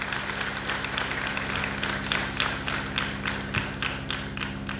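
Sustained audience applause at a general nursing students' lamp lighting ceremony at Little Flower Hospital, Angamaly, with many hands clapping steadily and densely throughout, fairly near and alone without talk.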